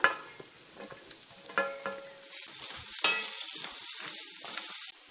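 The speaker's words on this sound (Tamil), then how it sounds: "எண்ணெயெல்லாம் எதுவுமே சேர்க்க வேண்டாம், வெறும் சட்டிலேயே போட்டு வறுத்து எடுத்துக்கலாம்" Grated coconut dry-roasts in a bare pan with no oil, crackling softly under a spoon that scrapes and stirs it, close and steady.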